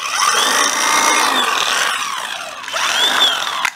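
A Makita brushless cordless drill with a hammer head runs loud and close, a steady high whine that dips briefly near the end before revving up again.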